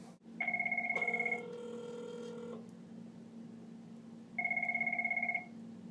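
A Cisco 9951 IP desk phone rings for an incoming call in two short bursts of rapid electronic trilling, separated by a pause, with a steady electrical hum underneath.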